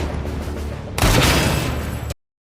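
Gunfire from shooter robots in a sci-fi action battle, a dense loud burst of shots that erupts sharply about a second in and cuts off abruptly.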